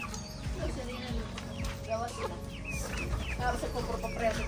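Chickens cluck and chirp at close range on a small farm, scattered calls over rustling and a low background hum, with a person speaking quietly at times.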